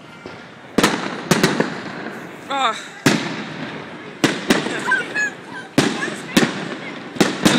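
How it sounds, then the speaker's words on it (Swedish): Fireworks at Liseberg amusement park burst in a series of sharp, loud bangs at irregular intervals, some in quick doubles, with crackling between them, and people can be heard talking and exclaiming in the background. "Visst, det här var fyrverkerierna så."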